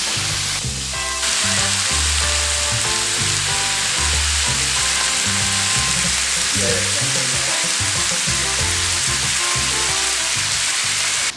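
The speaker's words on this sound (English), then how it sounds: "Smoking hot pan, let's go in with the ground beef so it caramelizes." Ground beef sizzles steadily in a smoking-hot pan, a loud, close, continuous frying hiss with occasional scraping and stirring knocks underneath.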